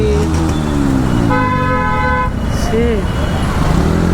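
A vehicle horn sounds in heavy night traffic on a Varanasi street, one loud, sustained honk lasting about a second over a constant rumble of engines and road noise, with voices mixed in.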